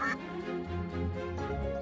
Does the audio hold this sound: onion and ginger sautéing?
no